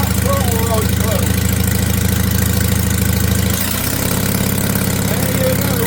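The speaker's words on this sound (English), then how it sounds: "Our little C300 running on 2 cylinders." An old C300 generator engine idles at tick over on two cylinders, a loud, steady rhythmic chugging with a close mechanical knock that dips briefly near the end, with voices talking faintly over it.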